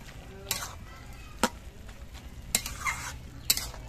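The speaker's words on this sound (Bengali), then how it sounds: "এগুলো দিয়ে নেড়ে চেড়ে মিশিয়ে দেব।" A few spaced scrapes and clinks of a spoon stirring turmeric and fried ground spices into cooking bottle gourd in a pan, over a faint background sizzle, quiet and sparse.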